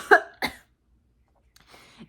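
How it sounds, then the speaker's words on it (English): A lingering post-COVID cough: two sharp, close coughs in quick succession, then silence and a faint breathy throat sound. "I'm completely over COVID except for the cough. I can't get rid of the cough."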